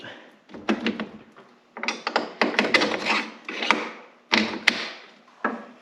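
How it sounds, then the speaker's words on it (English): A long bolt is worked through the rear shock mount of a Thundercat Elka Sidewinder, giving a run of close, irregular scraping and rubbing bursts with knocks and short pauses between them. "Now we gotta put this long bolt through."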